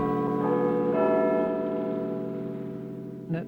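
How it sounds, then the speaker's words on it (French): Big Ben chiming before a wartime radio news bulletin, a single sustained bell stroke ringing loud and slowly decaying, with a fresh softer strike near the end. "À 9h chaque soir, le carillon de Big Ben précédait le bulletin d'information de 21h."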